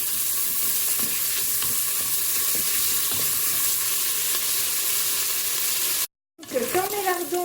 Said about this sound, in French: Et je remue avec une cuillère de bois.